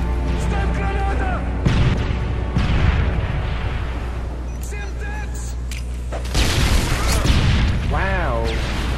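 A grenade blast in a search and destroy match of an online shooter, with booming detonations and rumbling gunfire in the game under loud excited voices of players talking.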